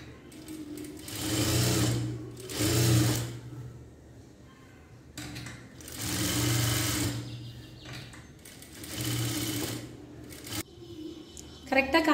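A sewing machine runs stitches along a garment lining at a quarter-inch seam allowance, starting and stopping in four separate motor bursts of a few seconds each, close and clear, with a short clatter at the end.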